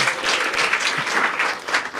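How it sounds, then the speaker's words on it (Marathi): Audience applause at a Marathi stand-up comedy crowd-work show, a dense steady wash of many hands clapping that holds for two seconds at a fairly loud level. "टाळ्या वाजवा एकदा"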